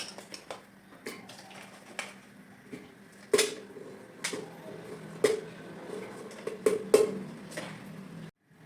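Cut pieces of idiyan chakka, tender jackfruit, dropped into a pressure cooker, giving a scattered series of light clinks and taps against metal with quiet gaps between them.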